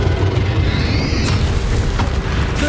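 Bombarda explosion spell blasts in the video game Hogwarts Legacy, a loud continuous rumbling boom with a whooshing burst partway through, dense and unbroken with no speech.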